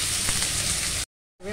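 Onions frying in a pan with tempering spices for a bitter gourd curry, giving a steady close sizzle that cuts out abruptly into silence and returns briefly at the end.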